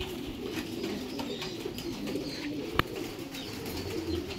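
Pigeons at a pigeon farm in Ramanathapuram coo and call softly and continuously over a dense, steady flock murmur, with one brief sharp knock partway through and no talking.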